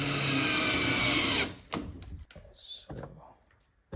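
Power drill driving fasteners into wooden bed frame parts during home assembly of a full-size bed, a loud steady whir for over a second that stops abruptly, followed by quieter clicks and handling knocks.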